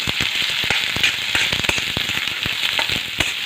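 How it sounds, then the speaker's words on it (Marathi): Thinly sliced onion sautéing in oil in a pan for a spicy Shipi Amti curry, a steady loud sizzle full of crackling pops, with no talk over it. "त्यामध्येच मी आता एक उभा कट करून घेतलेला कांदा आहे ना तो असा गुलाबी रंग येईपर्यंत मस्त एकसारखा हलवत परतून घेणार आहे"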